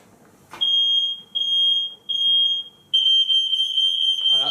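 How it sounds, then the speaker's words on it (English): A kitchen smoke alarm set off by steam from home all-grain beer brewing sounds a loud, shrill electronic tone in four bursts, the first three about a second each with short gaps, the last held continuously to the end. "That's my smoke alarm going off because it's so steamy in here."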